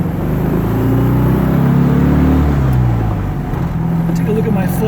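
A 1969 Karmann Ghia drives along with a loud, close engine drone that rises and dips as the gears are shifted, with some talk over it.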